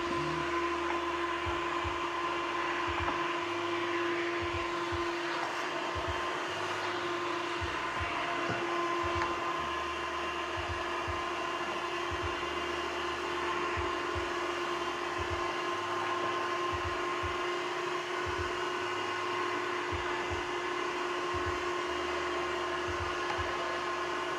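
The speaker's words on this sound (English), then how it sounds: "Let's just use the little shop vac with the attachment." A small shop vac fitted with an attachment whines and roars steadily at close range while sweeping up debris in a workshop, with faint irregular bumps and clicks under the continuous motor hum.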